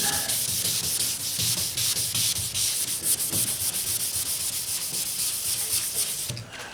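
800 grit sandpaper rubs back and forth over the paint of a 1977 Camaro Z28, giving a steady, close, hissy scrubbing in rhythmic strokes that goes on continuously without talk.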